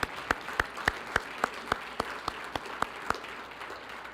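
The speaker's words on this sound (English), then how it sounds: "can we get a round of applause for Brycon Construction?" Slow, evenly spaced claps ring out one at a time, about a dozen sharp hits across a few seconds, at a Special Olympics New Mexico Law Enforcement Torch Run ceremony, with no talking over them.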